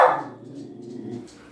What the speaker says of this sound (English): It's just my dog.